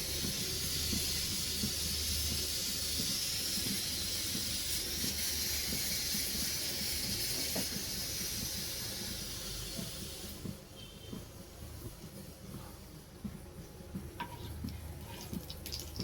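Mustard seeds frying in hot oil for a potato gravy, a steady loud sizzle and hiss with faint scattered pops, easing slightly partway through.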